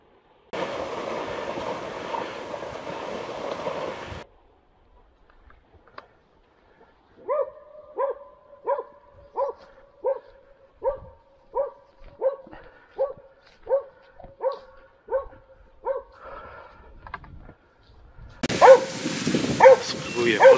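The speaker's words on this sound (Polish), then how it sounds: "Dobre psy." Hunting dogs barking during a deer hunt, a steady series of about fifteen rhythmic barks at a moderate distance in a quiet outdoor setting, with a voice heard before and after.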